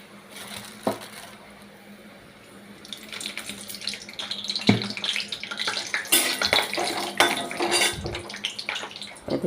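Tap water runs steadily into a sink while potatoes and pointed gourd are rinsed, with scattered knocks and splashes of the vegetables being handled close by, growing busier toward the end.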